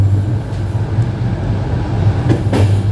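A slow passenger train between Malacky and Bratislava-Lamač in Slovakia rolls along the rails with a loud, close, steady rumble and occasional wheel clicks.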